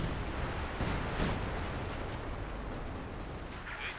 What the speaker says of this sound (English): 105mm howitzers laying down heavy fire there in support of the 11th SS assault onto town